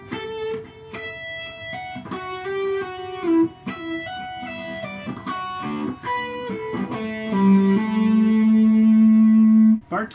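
Solo guitar playing bar 27 of Pachelbel's Canon, a close, clean phrase of quick slurred notes from hammer-ons and pull-offs that settles onto a long sustained final note.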